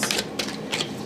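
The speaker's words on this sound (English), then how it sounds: "You can shuffle them like this." Oversized tarot card deck being shuffled by hand, three quick riffling bursts of card edges slapping together, close and crisp, without talk.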